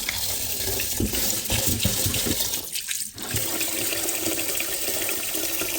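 Tap water runs steadily into a sink as raw rice is washed and soaked, a loud close rushing flow with brief sloshing changes and no talk.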